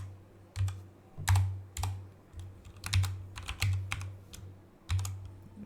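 Sharp key clicks of someone typing HTML code on a computer keyboard come in quick irregular clusters, close and clear in a quiet room.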